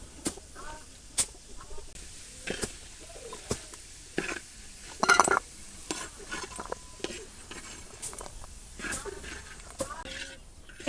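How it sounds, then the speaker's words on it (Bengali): Jackfruit seeds fry in hot oil in a village kitchen, with a quiet sizzle under repeated clinking stirs and one louder scrape midway, and faint birds in the background. "এইবার এই তেলের মধ্যে কাঁঠালের বিচিগুলো টালিয়ে নেব"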